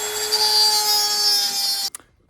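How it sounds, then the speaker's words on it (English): A power drill bores into a part on a Nissan 300Z during power steering removal, a loud, steady high-pitched whine for nearly two seconds that cuts off abruptly with a short clunk. "we're gonna drill out."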